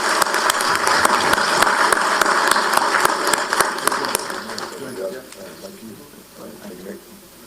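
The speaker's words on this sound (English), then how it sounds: "Round of applause for these 2 gentlemen." Applause from a debate audience for two local election candidates, a steady burst of clapping lasting about five seconds before tapering off into quieter room noise.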